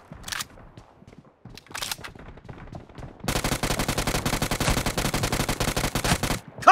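Gunfire in the BGMI video game: a few scattered single shots at first, then a sustained rapid burst of automatic fire that runs for several seconds, loud and close.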